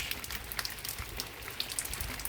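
Steady heavy rain pours down close by, a dense hiss with scattered louder drops striking a surface, continuous with no voices.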